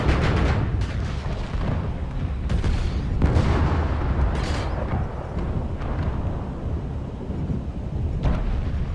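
Long-range missiles strike in the mech combat game MechWarrior Online, a dense barrage of loud booming impacts and bursts rolling one after another with heavy low rumble and no pause.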